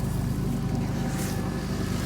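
Vauxhall Vectra B GSi 2.5 V6 idling just after a cold start in damp weather after sitting unused for a long time, a steady, low, pulsing engine drone heard close up with no talking.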